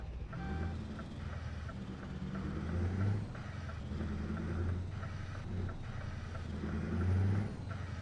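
A heavy truck in Euro Truck Simulator 2 pulls away once its brake is released: a low diesel rumble with a regular pulsing beep over it, and the engine swells twice as it moves off.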